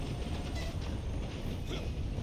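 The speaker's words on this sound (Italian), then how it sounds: "Ma avete mica visto che ho preso il treno?" A video game train rolls along as a continuous rumbling clatter with faint rhythmic clicks, steady and close, with no voices.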